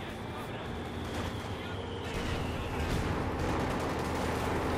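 A Company of Heroes 2 battle between Soviet and German forces, with constant dense rattling gunfire and rumbling combat noise, a continuous loud wash of distant fire with a voice talking over it.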